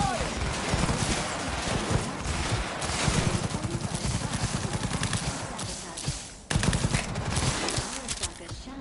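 Sustained automatic gunfire rattles through a video game firefight, loud and dense with fast rhythmic bursts and a brief break near the end, while voices speak over the shooting.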